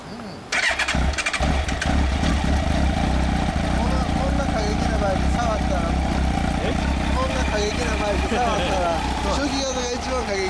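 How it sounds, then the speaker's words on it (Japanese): A 2000 Kawasaki Ninja ZX-12R motorcycle engine fires up close by and runs steadily at a loud idle with light blips of the throttle, and people talk over it. "あのエンジン音聞かせて。"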